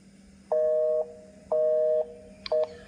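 A phone number being dialed on a mobile phone: three clear electronic keypad tones, evenly spaced about a second apart, each a steady half-second beep, over a faint background hum.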